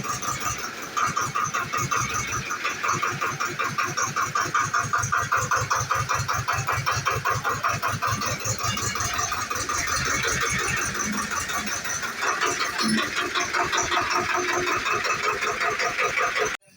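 A tractor engine runs steadily near a stack of cement bags, its loud, even chugging pulse continuing without pause for the whole stretch, with no voices over it.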